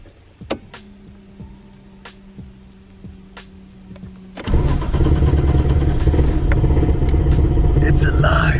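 An old Nissan RB30-powered car cranks with a few clicks and clunks, then its engine catches and settles into a loud, steady rumbling idle that fills the rest of the clip.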